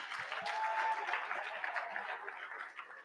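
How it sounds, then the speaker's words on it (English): Audience applause after a team's turn at an AI hackathon, a dense steady patter of many hands that holds fairly loud across the whole stretch and thins slightly toward the end. "Another round of applause for them"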